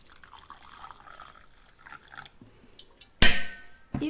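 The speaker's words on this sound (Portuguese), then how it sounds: "Vou colocar a água." Hot water splashes into a cup with honey at the bottom for tea, a short loud burst of pouring after quiet background, followed by a brief second splash.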